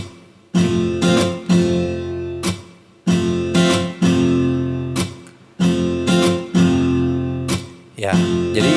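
Repeating strummed chord pattern from the Ample Guitar M II Lite virtual guitar plugin, bright percussive strokes in a steady groove with brief pauses between phrases, clear and up close with no voices over it.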